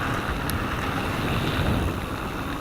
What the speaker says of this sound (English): here's some wind